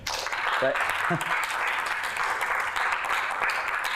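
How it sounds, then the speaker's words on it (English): Audience applause at a university cyber security awareness day welcoming a speaker, a fairly faint, steady wash of clapping from a crowd with brief voices over it. "let's give a big, warm round of applause for Mr."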